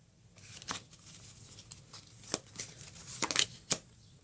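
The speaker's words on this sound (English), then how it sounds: "Okay, now I'm going to pull 9 cards for you." Tarot cards are shuffled and dealt one by one for a love reading, giving several soft, sharp card snaps and slides spread across a quiet background, close by with no talking.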